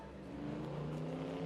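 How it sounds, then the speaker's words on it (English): Ford Fairmont 289 V8 race car accelerating at the Leyburn Sprints in Australia, a steady loud engine roar that builds slightly over a second and a half, with no voices. "Darren Hansford in the 289 V8 Fairmont."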